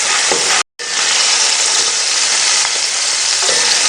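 Peas fry in hot oil with a loud, steady close sizzle and hiss, broken by one brief silent gap near the start.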